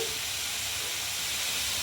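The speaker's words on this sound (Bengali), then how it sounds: "এখানে বিট গাজর ভাজা বসিয়ে দিয়েছি" Beetroot and carrot fry in a pan with a steady, close sizzling hiss that continues evenly without a break.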